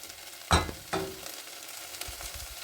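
Butter sizzling as it melts in a pan of softened onions, with two sharp bursts of frying near the start settling into a quieter steady crackle.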